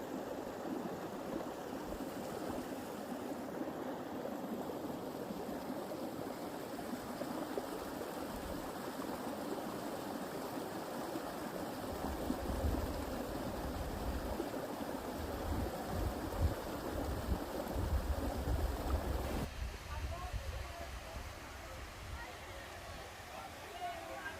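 A mountain stream near waterfalls on Snowdon rushes in a steady, broadband wash that stays close and constant for over twenty seconds, under a speaking voice.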